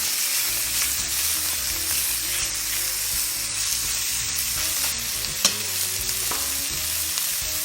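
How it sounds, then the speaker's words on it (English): Pieces of lamb sear in a hot cocotte pot with a loud, continuous close sizzle and crackle, punctuated by an occasional stir or clink. "Sear them now on both sides, on the other side, sorry."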